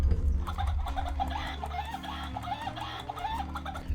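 Chicken clucking repeatedly in a steady, busy run of short calls over a low continuous hum, with no talk.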